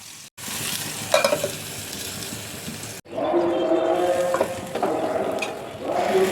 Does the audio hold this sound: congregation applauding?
no